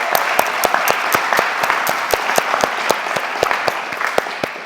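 A crowd applauds at a high school TV showcase, a loud, sustained round of clapping with distinct nearby sharp claps popping out of a dense bed, continuing steadily without speech.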